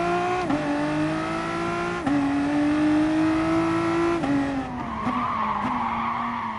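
In a racing game, a VW Supersport at the Nurburgring GP circuit squeals its tyres in a long loud skid over a droning engine, the pitch shifting as the car slides through a corner.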